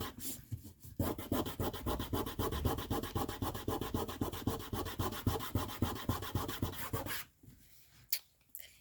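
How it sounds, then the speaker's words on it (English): Loose glitter being rubbed into glue strips, heard as a fast rhythmic run of close, dry rubbing strokes for about six seconds before it stops, with a few faint scuffs afterward and no speech. "rubbing all the loose glitter deep down into those glue strips that you have underneath"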